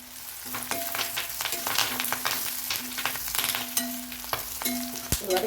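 Onion and curry leaves sautéing in oil for a potato gravy, a close crackling sizzle with repeated spatula scrapes and clanks against the pan, steady and moderately loud, no talk.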